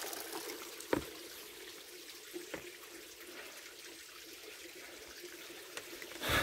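Soft, continuous trickling of a small flow of water into a rock pool at Las Tinajas, Coínco, with a broad hiss, punctuated by a few faint drips or splashes, heard alone and at moderate distance.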